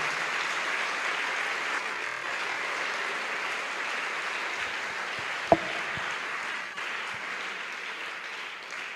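Church congregation applauding during a Spanish-language sermon, a steady, moderately loud wash of clapping that carries on for several seconds with one sharp knock midway.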